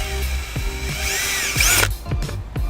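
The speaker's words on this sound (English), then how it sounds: "take a drill, put a hole in here so I can push my wire through that" Close, loud power drill whirring in short bursts as it bores a hole through a rubber flood plug beneath a 2017 Lincoln Continental, with brief stops and a higher whine partway through.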